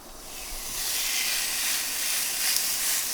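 Rib eye steak, seasoned with salt and pepper, searing in a hot pan, giving a steady loud hiss and sizzle that builds quickly and holds without a break.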